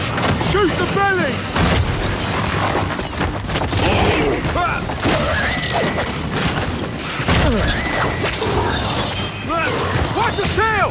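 Gunfire rakes a creature's belly in Gears of War 5, played on Xbox One X on insane difficulty: dense, rapid bursts with crashing impacts and shouted voices throughout.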